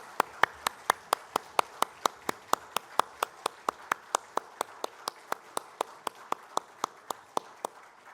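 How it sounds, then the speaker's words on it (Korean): A church congregation at a Sunday worship service claps in unison, a steady run of about thirty sharp, evenly spaced claps, roughly three or four per second, with little else heard. "하나님께 영광의 박수 올려드리겠습니다."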